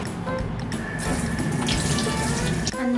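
Tap water running steadily into a hot water bag in a university dorm room, a continuous close splashing and gushing flow that grows fuller partway through.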